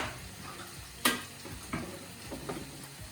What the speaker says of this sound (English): I'm going to mix them in with the cheese